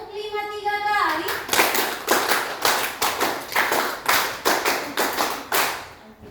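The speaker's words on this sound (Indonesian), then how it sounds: "tepuk 5 3 kali" A roomful of teachers at a training session claps in unison, a steady run of about a dozen crisp, evenly spaced claps grouped in repeated bursts, following a brief spoken instruction at the start.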